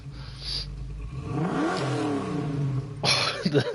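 A drift car engine in the video game GT Sport revs and whines up and down in pitch on the Tsukuba circuit, then a louder burst of throttle near the end, fairly close and unaccompanied by talk.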